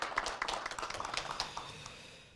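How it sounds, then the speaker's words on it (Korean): Audience at a college presidents' summit gives a round of applause of thanks: many hands clapping in a brief, fairly faint patter that thins and fades out over a couple of seconds, with no talking. "감사의 박수를 올려주시기 바랍니다"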